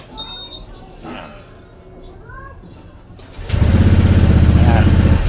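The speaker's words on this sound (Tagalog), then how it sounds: "So start ulit natin yung motor." A motorcycle engine starts abruptly after quiet background chatter, settling at once into a loud, steady idle that carries through to the end.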